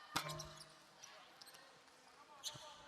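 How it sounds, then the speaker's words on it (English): A basketball thuds off the rim during a professional EASL game between TNT Tropang Giga and Taipei Fubon Braves, heard as a couple of sharp bounces over faint arena crowd noise and distant commentary. "You can hear the way the ball bounces."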